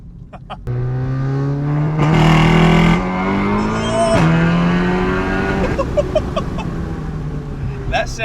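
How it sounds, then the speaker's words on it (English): An Audi TT engine roars under rolling launch control, loud and close, with a rising engine note that breaks at gear shifts and a hint of tire noise as it pulls hard. "That sound you heard right there was the rolling launch control."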